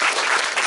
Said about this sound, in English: So a round of applause for Emma,